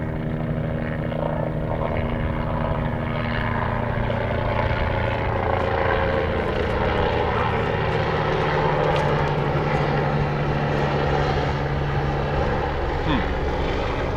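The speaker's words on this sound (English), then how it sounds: "There's again this helicopter coming here." Steady droning engine noise, continuous and fairly loud throughout, with a low rumbling hum of a helicopter passing overhead at the Giza pyramids in Egypt; faint voices may mix in.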